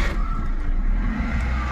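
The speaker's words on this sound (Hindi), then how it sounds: "यहाँ पर मैं सेल्फ लगा रहा हूँ" A petrol-running car, switched over from LPG, turned over on its self-starter: a loud, close, steady engine rumble with a faint whine on top, continuous through the short stretch and with no talk.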